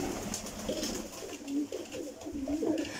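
Pigeons coo steadily in a pigeon loft kept by a breeder in Poland, overlapping soft rolling calls close by with a constant background hum and no talking.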